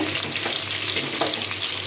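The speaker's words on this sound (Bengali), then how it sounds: "এদিকে মাছও ভাজা হচ্ছে" Fish fries in oil in a pan, a loud, dense, continuous sizzling hiss with light crackles, close up and with no talking.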